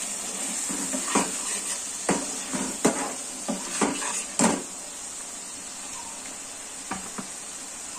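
A spice paste of coriander powder and water cooks in a pan, with a quiet sizzle under a series of sharp spoon scrapes and clinks against the pan, then a calmer stretch.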